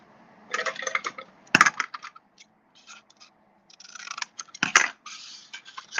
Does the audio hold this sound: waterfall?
no